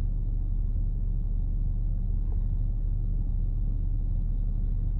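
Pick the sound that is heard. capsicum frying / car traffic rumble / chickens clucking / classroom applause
car traffic rumble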